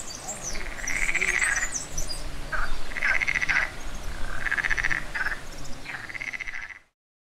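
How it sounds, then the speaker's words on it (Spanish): A chorus of frogs croaks steadily in repeated bursts outdoors in the Jerte Valley, Extremadura, with faint birdsong and no talking. "No sé si escucháis las ranas."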